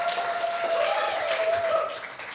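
An audience at a Jakarta public transport talk gives a short round of applause, moderately soft and fairly distant, with a faint tonal hum running beneath the clapping.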